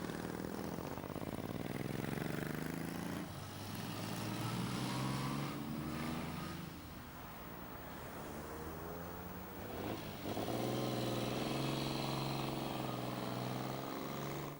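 Vintage 1960s motorcycles ride through a village main street, their engines a loud, continuous droning rumble that swells and dips slightly as the machines pass close by, with no talk over it.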